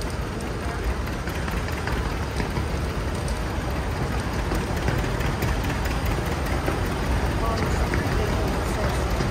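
A 1954 John Deere 70 tractor engine in a parade at the Manitoba Threshermen's Reunion, heard as a steady low rumbling drone mixed with crowd and outdoor noise throughout.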